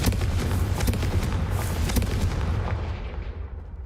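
A fiery Confringo spell explosion in the Hogwarts Legacy video game sounds as a dense, booming blast with crackling bursts that rumble on for several seconds before fading out.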